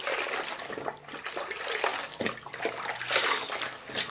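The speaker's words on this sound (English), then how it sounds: "Between each round, I will rinse out the mop in this solution right here." Mop rinsed and sloshed in a bucket of pine-scented powdered Spic and Span cleaning solution, giving close, continuous splashing and dripping water with brief louder swishes.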